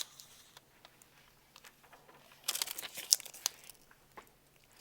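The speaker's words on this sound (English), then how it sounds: "We'll give a quick peel on this UltraColor Max." Carrier film peeled off an UltraColor Max DTF heat transfer laid over two layers of foam for a patch: a quiet rustle, then a short loud crinkling tear lasting about a second, trailing off into faint crackles.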